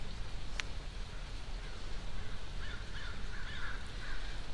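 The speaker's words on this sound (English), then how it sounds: "I don't remember the birds being this noisy back then." Crows caw in a peaceful residential neighborhood of Haddonfield, Illinois: a short run of hoarse calls at moderate distance, rising over steady outdoor background noise, with no voices.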